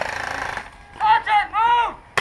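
Airsoft guns fire during a MilSim game: a rapid buzzing burst of shots at the start, then a few louder, tonal shouted bursts and a sharp crack at the end, with no clear talk between.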